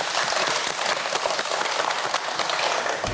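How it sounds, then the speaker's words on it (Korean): Audience applause for two students on a Korean TV science quiz show, a dense steady wash of clapping lasting the whole moment, fairly loud and close, with no voices over it. "저희 박수 한번 보내줄까요?"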